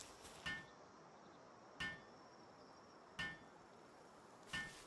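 A small hammer taps in the Palworld video game, four quiet, evenly spaced metallic clinks about every second and a half over a soft game background.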